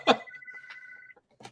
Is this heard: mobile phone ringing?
yes